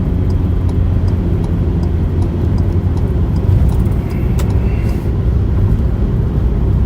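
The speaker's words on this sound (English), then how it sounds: "I'm gonna let this car pass before I can get over one" Steady low road rumble from inside a moving car, with another car passing nearby; the broad engine and tire drone stays loud and constant throughout, with no talking.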